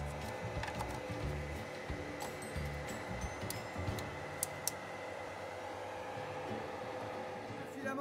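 3D printer running a print with LV3D Luxe filament, a steady whirring motor drone with faint stepper tones and occasional light clicks, continuous and close throughout.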